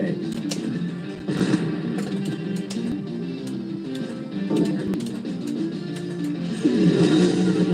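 A pinball machine plays its race car sound effect, a steady engine drone that swells and revs, loud and close, with someone talking over it.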